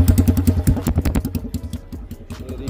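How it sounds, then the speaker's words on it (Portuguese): A 150cc motorcycle engine runs with a rapid, loud, pulsing chug up close that gradually slows and softens into an uneven idle. "E vamos ver se a moto tá boa."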